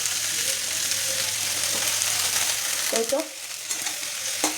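Onions fry to red-brown in a pan with a bright, steady sizzle, then chopped cabbage is tipped in with a few knocks and clatters near the end; a voice briefly murmurs.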